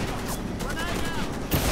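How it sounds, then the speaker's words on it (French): In the online shooter Warface, a grenade explosion goes off amid steady rapid gunfire, loud and continuous, with a heavy blast thump near the end; someone shouts over it. "J'ai pris une grenade dans la gueule!"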